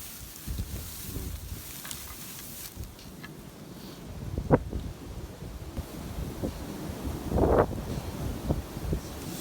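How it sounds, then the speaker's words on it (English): Gusty wind buffets the microphone outdoors while searching for shed deer antlers, with low rumbling bursts and occasional louder thumps, steady roaring throughout with no clear voices. "Super windy out here."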